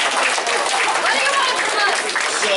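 At a high school assembly, students give a brief, scattered round of clapping that stays fairly loud and even, with murmured voices and chatter mixed into the crowd noise.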